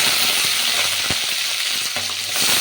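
Cumin, fennel, dried red chillies, green chillies and curry leaves frying in hot oil for egg rice, a loud, steady close sizzle with a few soft crackles and spoon taps, no voices.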